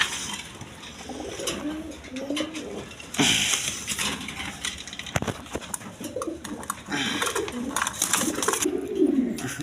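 Pigeons of several breeds, including coloured Rajgolla, coo in a loft, soft repeated calls mixed with wing flutters and clinking, fairly close, with a little background noise.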